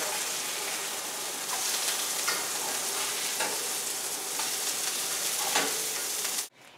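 Turkey burgers sizzle steadily in a hot frying pan, a constant close crackle with occasional louder pops, ending abruptly.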